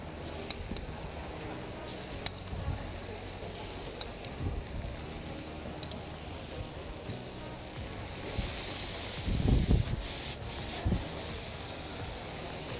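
Bell peppers tipped into a pan of sizzling onions, a steady frying hiss with scraping and rubbing of a utensil, a few soft thuds as pieces drop in, and a louder burst of sizzle and clatter partway through.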